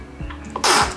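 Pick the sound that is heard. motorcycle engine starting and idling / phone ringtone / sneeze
sneeze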